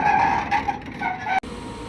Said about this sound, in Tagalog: Grabe ang ingay ng truck pad